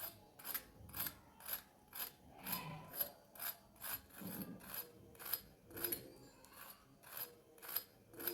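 Crispy fried aloo tikki potato cutlets, made without cornflour or breadcrumbs, give a steady run of faint, rhythmic crunches about twice a second, close by and with no talking.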